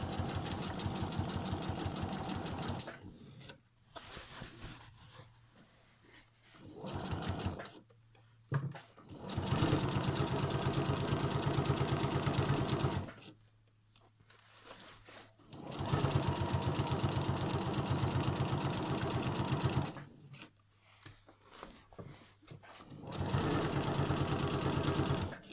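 An electric sewing machine stitches a cushion seam in several loud, steady whirring runs, stopping and restarting between bursts with brief quiet gaps.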